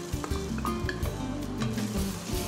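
Onions sizzle in melted unsalted butter in a soup pot, a faint, steady crackling fry with a few light stirring clatters over a short stretch.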